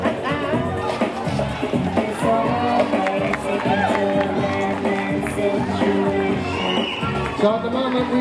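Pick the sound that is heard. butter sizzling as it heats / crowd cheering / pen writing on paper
crowd cheering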